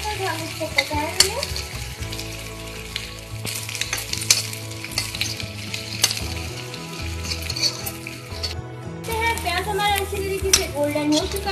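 Chopped onions frying with cumin in a pan until pink, sizzling steadily throughout, with repeated clinks and scrapes of a stirring spoon and a voice talking over the cooking.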